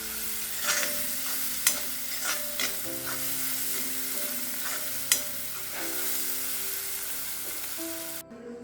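Masala sizzles as it sautés in a pan, a steady close crackle broken by sharp clinks and scrapes of a spoon stirring against the metal.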